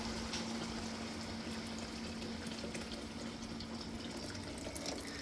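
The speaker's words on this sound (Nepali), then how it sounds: "अब यसलाई आवश्यक तातो पानी डटराइकन हाल्नुहोस्।" Hot water pours steadily into a cooking pot of fried biryani base, a continuous rushing hiss, close and unbroken throughout, under a faint low hum.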